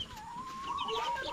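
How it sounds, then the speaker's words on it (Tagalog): Farm chickens kept as backyard fowl near a vegetable garden cluck softly in a short, steady stretch, with scattered higher calls and no talking. "Alaga din silang manok."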